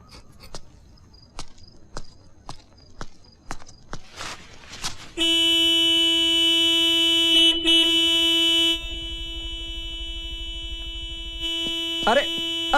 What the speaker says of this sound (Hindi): इतनी जोर से हॉर्न मत बजाइए।